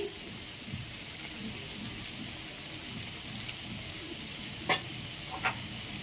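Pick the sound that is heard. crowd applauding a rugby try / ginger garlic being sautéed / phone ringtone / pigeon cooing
ginger garlic being sautéed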